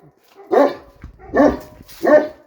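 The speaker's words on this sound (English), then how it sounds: "So, Angus, quit barking." Three loud, deep barks from a nearby dog, evenly spaced with brief quiet gaps between them.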